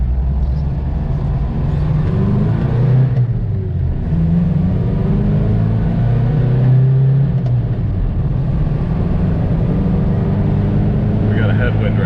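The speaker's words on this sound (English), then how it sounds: "Give you some full throttle action. Get all 85 horsepower working." A Toyota pickup with an 85-horsepower engine is driven at full throttle, a steady, loud low engine drone and road rumble that holds for the whole stretch, with a voice talking over it.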